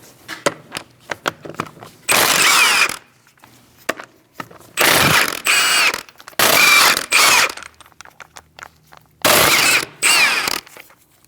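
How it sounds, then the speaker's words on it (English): A ratchet with a 17mm socket works loose the front wheel of a 2000-2006 Mini Cooper, in four loud bursts of fast clicking separated by quieter gaps with faint handling noises. "Using a 17mm socket, we're going to remove our wheel."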